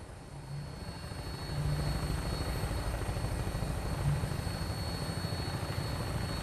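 A Vertibird aircraft in the video game Fallout 4 flies along, a steady loud rotor and engine drone with a low pulsing throb that swells slightly after the opening and holds throughout.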